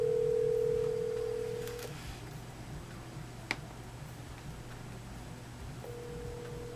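Telephone tones while dialing for a prank call: a steady dial tone fades out, then a few faint clicks and a sharp tick follow, and the tone returns near the end, with no voices.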